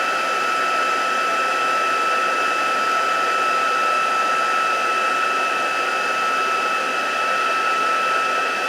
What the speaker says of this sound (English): you just start moving the heat tool around, and very quickly you will see the embossing powder melting